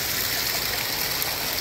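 Floodwater flows steadily past a neighbor's house after heavy rains, a close, constant rushing and trickling of water with no voices.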